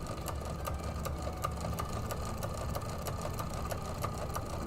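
A sewing machine runs a straight stitch through a quilted table runner with a steady, rapid mechanical clatter and faint motor hum, close but quiet, with no talk.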